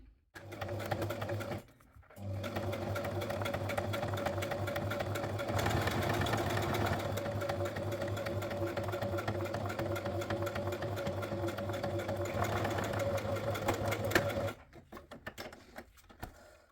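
A sewing machine stitches faux leather in a steady, fast whirring run of about twelve seconds, close and quiet, starting and stopping with a brief pause near the start.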